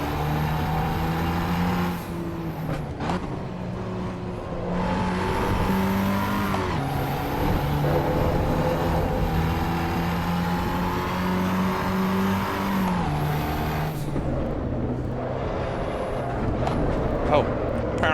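Race cars in the Assetto Corsa Evo sim racing game at Brands Hatch, a loud, continuous engine drone rising and falling through gear changes, with brief dips and other cars close by.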